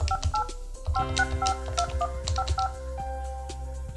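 Keypad tones from a Polycom VVX411 business desk phone dialing a blind call transfer: a quick series of short, evenly spaced beeps, close and clear, with soft button clicks and no talking.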